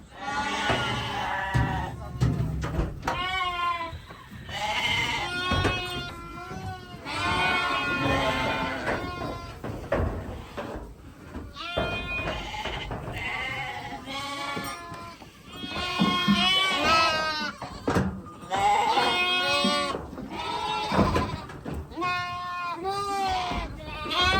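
Sheep and lambs in a snowy farm shed bleat repeatedly and loudly, several animals calling over one another in a dense chorus, with some human voices mixed in.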